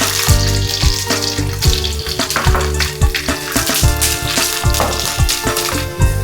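Dried red chillies and garlic fry in hot oil for a Kerala mango-ginger pickle, giving a steady, close sizzle with repeated clattering stirs and scrapes throughout.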